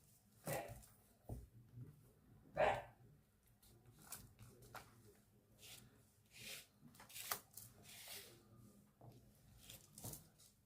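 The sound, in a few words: dogs barking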